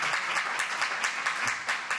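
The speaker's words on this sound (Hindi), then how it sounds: "एक बार जोरदार तालियां हमारी देविका जी के लिए" A brief burst of strong applause for Devika from an audience at a poetry gathering, with many hands clapping densely and steadily at close range.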